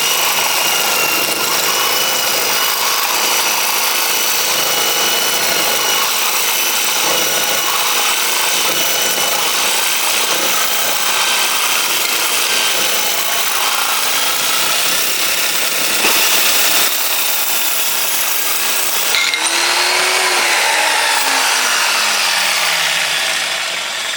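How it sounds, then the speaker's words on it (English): A saw grinds steadily through a metal backing plate for a 4 jaw chuck on a small mill, a loud continuous rasping drone that runs unbroken, with a brief shift in pitch near the end. "the saw is not as messy"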